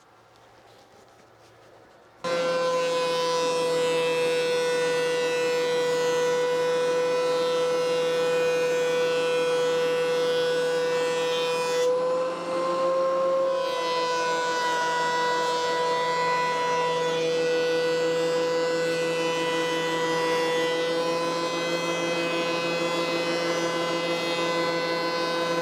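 A thickness planer shaves a thin layer off each side of wood sign blanks, a loud steady whine with strong tonal harmonics that starts abruptly and runs continuously, with a brief shift in pitch midway as the board feeds through.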